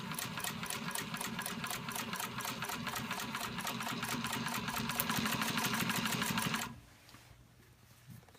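Consew 1541 walking-foot industrial sewing machine stitching a seam, a fast steady mechanical clatter of needle strokes running loud and continuous, then stopping and leaving a quieter motor hum.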